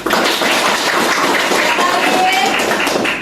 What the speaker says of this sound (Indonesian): Oke, aplaus dulu teman.